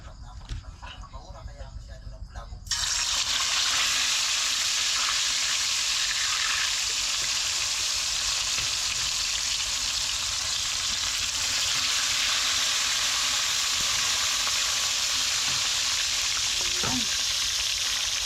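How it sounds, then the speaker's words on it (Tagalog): Grouper (lapu-lapu) fish pieces hit hot cooking oil and set off a loud, steady sizzle and crackle that runs on after a brief quieter start, with faint stirring and a few light knocks. "Simulan na natin magprito mga ka-channel."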